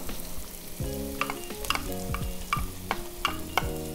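Carrots tossed into a sizzling wok for pancit canton guisado, with a soft frying hiss under repeated sharp scraping and clinking of a utensil stirring against the pan.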